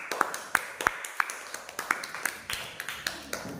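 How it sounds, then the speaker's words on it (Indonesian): A classroom group claps in a steady, evenly spaced rhythm of single sharp claps, fairly quiet and roomy, with no talking over it. "Kembali, tepuk tangan."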